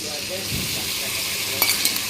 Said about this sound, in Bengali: স্বাদ মতন লবণ দিয়ে এই যে ভালো করে মশলাটা কষিয়ে নেবো